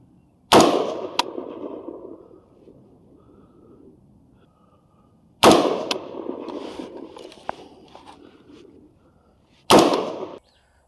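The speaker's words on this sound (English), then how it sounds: "I'm going to go ahead and shoot again after I make those adjustments on a new target" An AR-15 rifle fires three loud, sharp shots at a 100-yard target, several seconds apart. Each crack trails off in a rolling outdoor echo.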